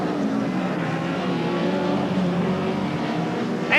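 A BTCC touring car pulls away from the pit lane during a 1990 race, its engine droning steadily and fairly loud throughout, mixed with general circuit noise and commentary-like voices.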